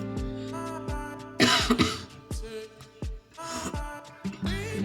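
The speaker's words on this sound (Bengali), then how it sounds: "ঠান্ডা লেগে গিয়েছে কাশি হচ্ছে" A person with a cold coughs in a few rough bursts while mopping a room at home, heard over a steady tonal background.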